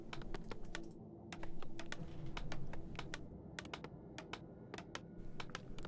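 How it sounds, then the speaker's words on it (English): Players in a Warcraft III tournament semifinal type fast on computer keyboards. Dense clicks and keystrokes clatter in quick bursts over a continuous room and game noise bed. "These guys type so fast."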